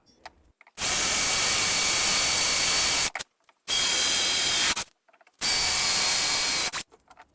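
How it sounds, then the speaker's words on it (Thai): A power drill bores mounting-bolt holes in a DIY vertical spray-can rack for a workshop, three loud steady whining bursts of a few seconds each, separated by short silences. "คราวนี้เราก็จะมามาร์กจุดเพื่อเจาะรู เอาไว้ใช้ในการยึดน็อตด้วยกันทั้งหมด 3 จุดครับ"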